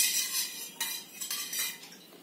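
A spoon stirs lemon sharbat with grated ginger in a glass, giving a few light, bright clinks and scrapes against the sides, close and fairly quiet, with no talking.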